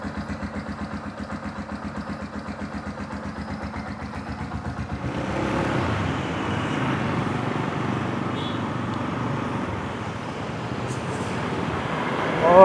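A 2008 Yamaha Scorpio Z motorcycle pulls away from a rhythmic idle into steady riding through traffic, its engine droning loud and close with road noise.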